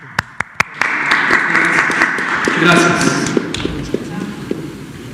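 Applause at a Mexico City health press conference in May 2020, honoring the sign language interpreters: a few sharp claps first, then a sustained, fairly loud wash of clapping that thins out near the end, with a voice briefly under it.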